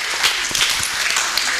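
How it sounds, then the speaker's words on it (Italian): Audience applause at a local running celebration in Lauria, honoring a woman runner, a half-marathoner and regional relay record holder; steady dense clapping from a crowd, moderately loud and continuous throughout. "Un applauso alla nostra Rossana."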